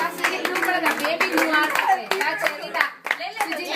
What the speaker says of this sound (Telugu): చప్పట్లు కొట్టాలి అందరూ